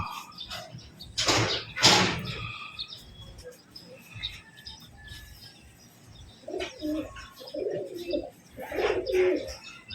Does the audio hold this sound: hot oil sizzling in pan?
no